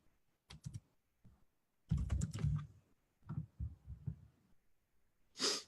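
Keys on a computer keyboard are typed in a few short, close clusters of clicks separated by pauses, with soft breathing and a brief sniff near the end.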